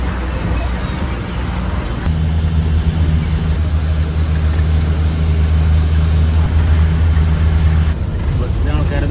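Engine of a nearly empty bus carrying only seven or eight passengers drones loudly and steadily from inside the cabin, with voices talking over the rumble.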